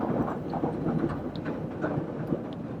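A train passes nearby in Chicago with a continuous low rumble and rhythmic clatter of wheels, rolling on steadily at moderate loudness with no voices over it.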